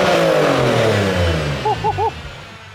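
Porsche 996 engine with a newly fabricated exhaust, a falling rev that winds down smoothly, then three short, quick blips of the throttle near the end, close and loud.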